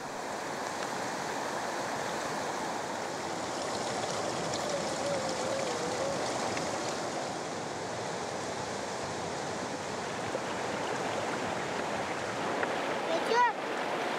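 A mountain river in Kyrgyzstan, where water is fetched by hand, rushes steadily and close by in a continuous broad roar, with a brief splash or clink near the end.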